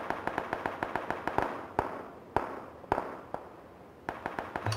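Rapid bursts of gunfire crackle in quick succession in the game PlayerUnknown's Battlegrounds, with a few louder, sharper shots standing out amid the popping, no voices present.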